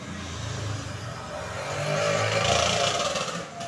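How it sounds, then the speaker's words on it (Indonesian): A motorcycle engine roars past, rising and revving louder midway before easing off, heard outdoors at moderate distance on a quiet early morning, with no talking. "Ya, suara motor menderu."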